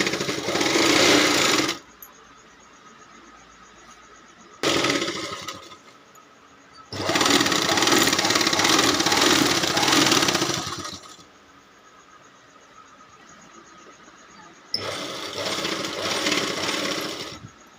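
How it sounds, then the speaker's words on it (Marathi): A household sewing machine stitches a quilt border made from an old saree, running in four loud bursts of steady rapid whirring separated by quiet pauses. "बॉर्डर कडक येण्यासाठी आपण आता त्याच्यावरती 3 शिलाई मारणार आहोत"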